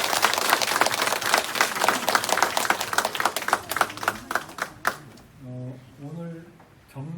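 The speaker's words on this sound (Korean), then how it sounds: "박수로 환영해 주시고" Congregation at a church inauguration service claps to welcome standing pastors, brisk sustained clapping that tapers off around the midpoint before a voice speaks over the quiet.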